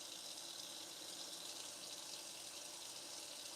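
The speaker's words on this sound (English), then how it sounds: "I'm sitting here straining the tuna" Water draining steadily from a can of solid white tuna being strained over a sink, a continuous hissing trickle that stays loud and even throughout with no talk.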